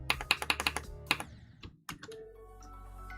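Rapid keystrokes on a computer keyboard, a quick burst of clicky taps followed by a few scattered presses and a low steady hum, close and clear with no talking.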